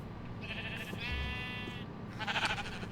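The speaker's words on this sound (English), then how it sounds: "Hey, sheep." A sheep in Minecraft, a video game, gives a wavering bleat, followed by a second shorter one, close and clear over a faint background.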